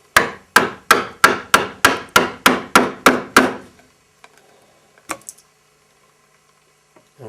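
A mortice chisel struck repeatedly to chop down into wood: about eleven sharp, evenly spaced knocks at a steady rhythm, close and loud, then a few faint scattered taps before quiet.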